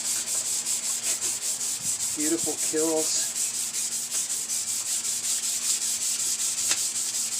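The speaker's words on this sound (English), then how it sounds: "let's get the sanding in real quick." Sanding a part of an E-Flite Carbon Z model airplane outdoors on a gusty day, a steady rapid rhythmic rubbing of sandpaper strokes running close and loud throughout, with a brief spoken remark partway through.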